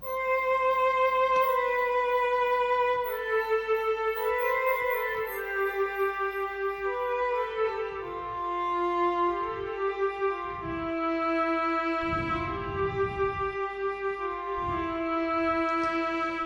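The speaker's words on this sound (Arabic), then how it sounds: "زي ما انت سامع كده صوت الكمانجات جودتها عالية" A violin section patch from the Xpand 2 software instrument plays a sustained legato string melody with smooth, overlapping bowed notes and rich harmonics, steady and fairly loud with no voices.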